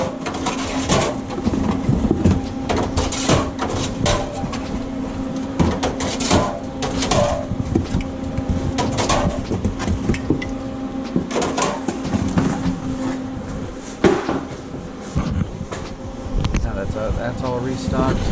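A soda vending machine is restocked, with continuous clunks, rattles and sliding knocks of cans and machine parts over a steady mechanical hum, some louder thuds standing out.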